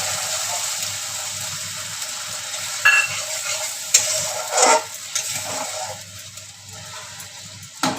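A curry pan sizzles steadily as a little water hits the hot oil, with brief spatter bursts and stirring scrapes over a constant frying hiss that eases toward the end; no talking.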